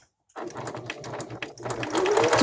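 A sewing machine stitching a fabric face mask starts up after a brief silence and runs in a steady, close mechanical whir. It grows slightly louder toward the end, with no voices.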